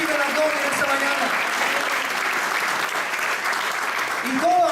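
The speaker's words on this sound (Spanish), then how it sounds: "Dale un aplauso al Señor, mis amados." A church congregation claps steadily and fairly loudly for nearly five seconds while a speaker's voice carries over the applause at the start and again near the end.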